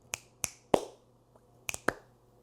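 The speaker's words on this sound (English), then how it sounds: "Just snapping your fingers, one in each hand, and clap your hands" Five sharp finger snaps, one from each hand in turn, with a single louder hand clap in the middle, spaced irregularly and close up with no voices.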